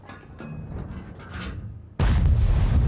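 A heavy IS-7 tank cannon fires in a World of Tanks battle, one sudden loud boom that rolls on as a sustained roar after quieter engine rumble and ambient battle noise.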